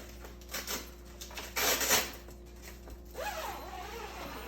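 A screen door zipper is pulled in a few quick rasping strokes, with one longer, louder zip midway, in an otherwise quiet space.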